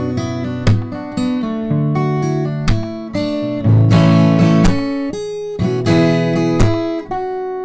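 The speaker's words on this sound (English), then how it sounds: "it's basically picking while hitting the strings with your right hand" Fingerstyle guitar played by picking while the right hand hits the strings percussively, giving rhythmic chords with sharp slaps and thumps on the beat, loud and close with no talking.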